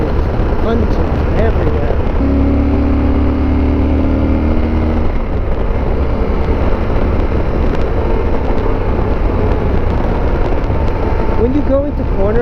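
A motorcycle engine drones steadily and loudly while the bike rides along a valley road, with heavy wind rush throughout and pitch shifts as it goes into corners.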